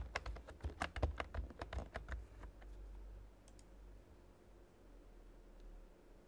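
Fast bursts of clicking on a computer keyboard while entering login details, a dense run of close, crisp keystrokes that thins out and stops, leaving quiet room hiss.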